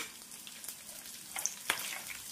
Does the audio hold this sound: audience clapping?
no